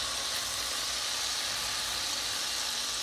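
Red cabbage handfuls dropped into a hot pot on medium-high heat set off a steady, even sizzle and hiss that runs unbroken at moderate loudness, with no voices over it.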